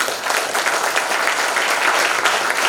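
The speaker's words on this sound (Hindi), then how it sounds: "जोरदार ताली बजाएं" A large crowd at a Hindi motivational business talk gives loud, dense, sustained applause that fills the whole stretch evenly, with no break.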